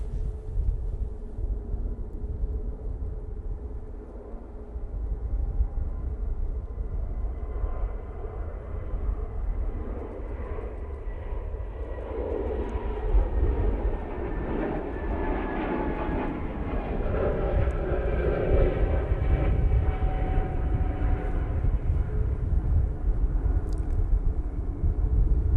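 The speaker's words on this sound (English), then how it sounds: "next out, it is the Lufthansa going back to Munich" A Lufthansa airliner departs Manchester Airport bound for Munich, its broad engine roar rising and holding steady at a distance over constant low rumble for the full stretch, with no voices.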